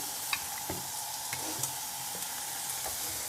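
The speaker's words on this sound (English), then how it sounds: "Stir like this. Always high heat." Thai fried rice stirred in a pan over high heat, a close steady sizzle punctuated by quick scraping and clinking strokes of the spatula.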